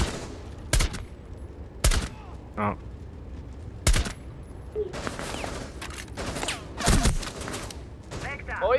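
Rainbow Six Siege gunfire, with several sharp, loud single shots and short bursts spread across the clip amid game noise, with a brief exclamation and some talking.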